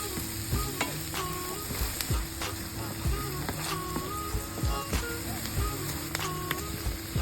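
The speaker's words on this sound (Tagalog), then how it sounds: "let's heat oil in a pan and saute garlic and onion" Garlic and onion sautéing in hot oil in a pan, a dense continuous sizzle broken by repeated scraping stirs and clinks of a utensil against the pan.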